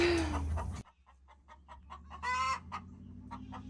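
An angry broody hen clucks in a series of short, close calls, with one louder, longer squawk in the middle. A brief burst of other noise comes before the calls, and nobody speaks.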